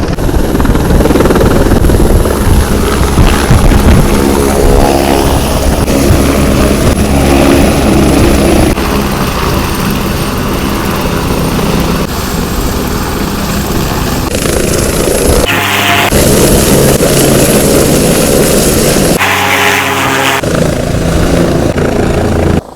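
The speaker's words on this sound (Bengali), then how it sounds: "এই যে ল্যান্ড হচ্ছে হেলিকপ্টার।" A helicopter roars loudly and continuously nearby, its rotor thumping and engine whining steadily as it comes down to land at a mountain helipad on the Kedarnath route.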